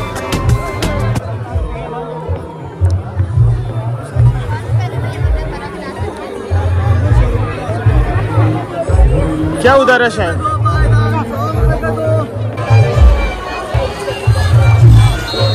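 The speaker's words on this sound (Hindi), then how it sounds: "बहुत ज्यादा भीड़ है गाइस यहाँ पे ना" Dense crowd bustle fills a busy Indian mela, with steady chatter and babble from many people nearby, footsteps and movement throughout, and people talking close by over the din.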